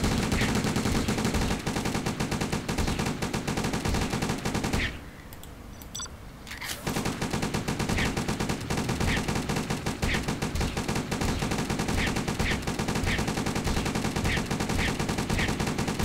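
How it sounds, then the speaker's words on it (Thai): Rapid automatic gunfire from upgraded towers in a tower defense video game, a dense continuous rattle of shots at steady loudness, broken by a brief quieter gap midway before resuming. "ยิงรัวๆค่ะยิงรัว"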